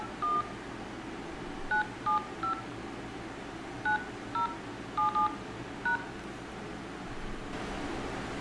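Phone keypad tones dialing a ten-digit number during a call transfer, short clear beeps in irregular groups over a faint line hiss, with no talk.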